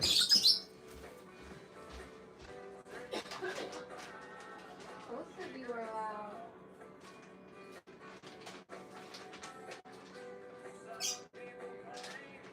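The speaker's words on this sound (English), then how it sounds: "That is my bird in the background." A pet bird squawks and chirps in the background of an indoor room, with a sharp burst near the start and scattered calls after it, while a person talks over much of it.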